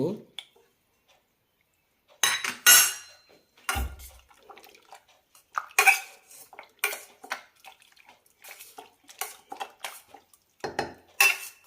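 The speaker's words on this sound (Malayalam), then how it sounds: "ഇത് നന്നായി മാഷ് ചെയ്തെടുക്കാം." Cooked brinjal and potato pieces mashed in a pot with a metal utensil, giving intermittent clanks, scrapes and soft wet squelches in irregular bursts, close, with quiet pauses between.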